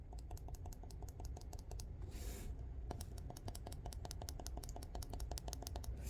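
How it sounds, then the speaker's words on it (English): Rapid clicking and popping from the loose button of a Wuben X1 Falcon 12000-lumen flashlight, pressed lightly over and over in a steady, close, fairly quiet rhythm with a short gap partway through and no talk. "it makes this annoying popping noise where it's clearly not in there in the correct dimensions that it should be"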